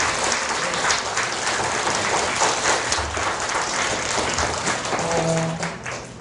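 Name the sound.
audience applause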